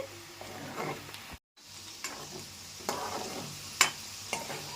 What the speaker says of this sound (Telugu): చక్కగా ఇలా కలుపుకుంటూ వేపుకోవాలండి